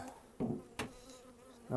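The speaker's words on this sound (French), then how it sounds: "Oh mes pauvres petites abeilles." Honeybees at a hive being readied for the end of the beekeeping season drone in a close, harmonic buzz that swells in short bursts; no one speaks.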